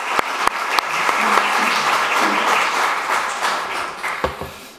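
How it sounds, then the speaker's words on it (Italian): An audience at a science lecture applauds to thank a professor, a dense, steady round of clapping from many hands with a few sharper claps standing out near the front. "avervi chiesto un applauso anche tutti insieme per ringraziarlo"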